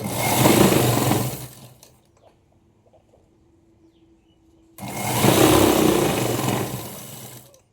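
An electric sewing machine stitches a pant hem in two loud, close bursts of rapid whirring, separated by a quiet pause with a faint hum.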